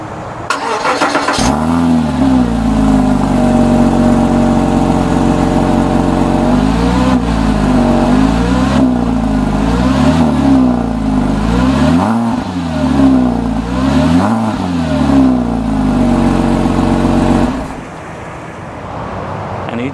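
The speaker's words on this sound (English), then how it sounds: "you just perfectly heard how sounds the stock exhaust on a 2008 Porsche Boxster" A 2008 Porsche Boxster with stock exhaust idles just after a cold start, a loud, steady engine drone heard from behind the car with rising and falling revs throughout, then cutting off abruptly near the end.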